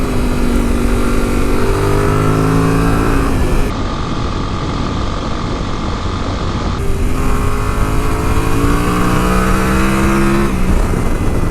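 A Yamaha Tenere 700 motorcycle on Tusk 2Track ADV tires riding on pavement, loud steady engine drone through rising gear changes, with strong wind rush throughout.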